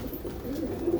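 Several pigeons coo softly in a low, wavering murmur, close by in a breeding loft, with no voices over them.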